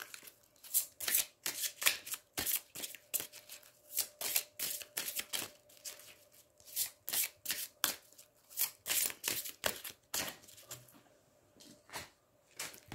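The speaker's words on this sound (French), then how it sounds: "3 cartes, vous choisissez" Tarot cards being shuffled by hand, a long run of quick crisp riffling bursts in close succession at steady moderate loudness, with no talking.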